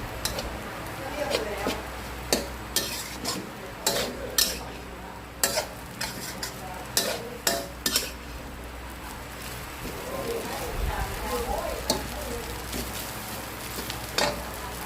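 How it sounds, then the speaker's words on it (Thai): Catfish meat stir-frying in a pan over low heat, with a steady soft sizzle and repeated sharp scrapes and clinks of a utensil against the pan, fairly close. "เราจะทำการรวนในกระทะ ด้วยไฟอ่อนๆก็ ไม่ต้องไฟแรงนะเพื่อนเพราะว่าเนื้อปลาจะติดกระทะหมด"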